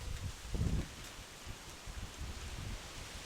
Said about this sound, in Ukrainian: Ох, вітер сильний.